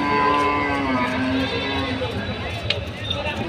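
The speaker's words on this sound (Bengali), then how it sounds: "এখানে সারি সারি অবস্থা গরু দেখা যাচ্ছে।" Rows of cattle, mostly local breeds, at a village cow market in Tangail; low moos and animal noises sit in the background under continuous nearby talk, with outdoor crowd bustle.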